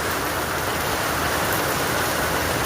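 Steady, dense rainfall pours down continuously, a close, even hiss with no voices.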